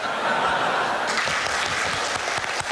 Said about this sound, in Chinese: 一席话让全场响起热烈掌声